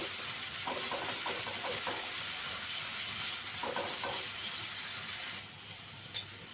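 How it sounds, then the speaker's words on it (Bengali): Cumin-coriander paste sautés in a pan with a steady, fairly faint sizzling hiss, broken by a few soft stirring scrapes, and the sizzle eases slightly toward the end. "এবার আমি জিরে ধনে বাটাটা দিয়ে দিলাম এক চামচ একটু কষিয়ে নিই"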